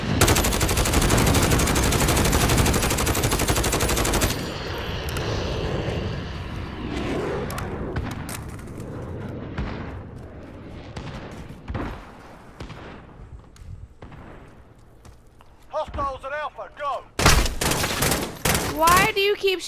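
Gunfire in a first-person shooter video game: a loud, dense burst of automatic fire for about four seconds, then scattered shots and bursts, with sharp repeated cracks near the end.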